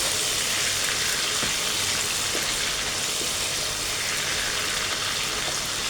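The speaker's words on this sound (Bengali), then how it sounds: "চিংড়িগুলো আমি 5 মিনিটের মতো একটু ভেজে নেব" Prawns fry in hot oil in a pan, giving a continuous, even crackling sizzle at moderate volume with no talking.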